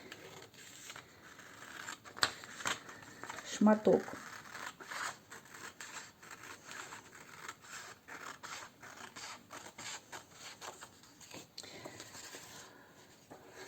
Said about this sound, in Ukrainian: Тепер беру ножиці і відрізаю цей